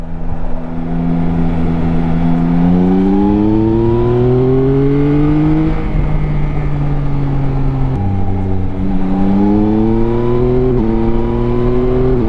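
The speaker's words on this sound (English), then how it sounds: "Listen to that shifter work." A motorcycle accelerating hard with a quickshifter: engine pitch climbs steadily, then drops abruptly at each upshift, repeating several times in a loud, continuous, close-up run with no talk.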